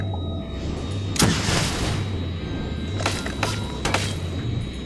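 A flak cannon fires from a mech in Starbound: one heavy burst, then a quick cluster of three more a couple of seconds later, each a sharp blast over a steady low hum, with no talk.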